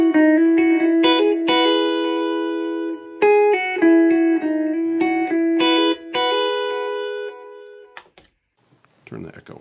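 An electric guitar plays a quick run of notes with an echo effect, each picked note ringing and repeating before the playing breaks off and fades near the end.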